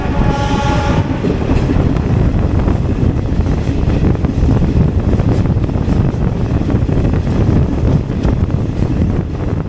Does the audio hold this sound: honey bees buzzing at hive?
no